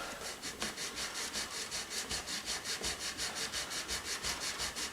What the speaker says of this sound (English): So we'll start with some fret rubbers